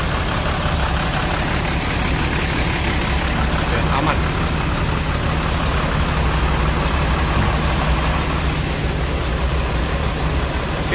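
A tronton coach bus for the Palembang route sits idling during a battery and engine check, a steady loud low rumble that holds through the whole stretch while a person speaks briefly nearby.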